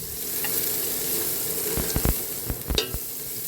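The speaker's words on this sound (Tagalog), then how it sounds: "Pwede na po natin ilagay ang ating garlic. At tayo po mag-igisa na." Garlic sautés in hot oil in a pan, giving a steady close sizzle broken by a few sharp stirring knocks and clatters near the end, with no voices.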